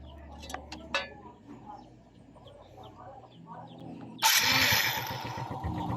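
A Suzuki Smash motorcycle that had been cutting out and refusing to start, right after spark plug cap work, fires up suddenly partway through and runs loud and steady, with chickens clucking faintly before the start.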